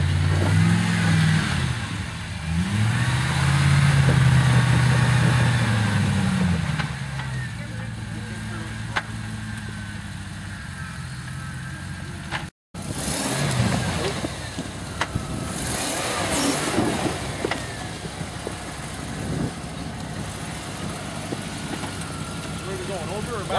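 An off-road vehicle on the rocks of Blueberry Hill revs its engine in surges as it crawls over boulders, the mid-pitched roar rising and falling close by while people talk and call directions throughout, with a brief dropout midway.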